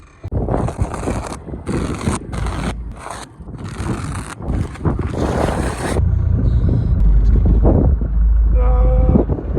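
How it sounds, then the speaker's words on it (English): A lorry arrives at a farm to load big square bales of winter barley straw, its low engine rumble growing steadily louder and filling the second half under gusty wind buffeting across the microphone. "Lorry from yesterday's back again for a load of big square bales."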